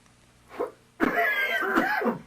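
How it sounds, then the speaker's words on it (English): A person gives a short, soft throat sound, then a harsher, louder burst of coughing lasting about a second, close up in an otherwise quiet space. "First, the coughs."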